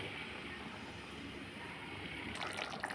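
Water is poured into a pan of homemade vegetable curry, a steady broadband splash and trickle that holds even for about three seconds at close range, growing slightly brighter near the end.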